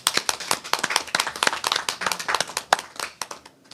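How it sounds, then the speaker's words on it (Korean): Audience at a Korean lecture event claps in a brisk, uneven patter of many hands, close and lively, without talk over it. "박수를 한번 하겠습니다."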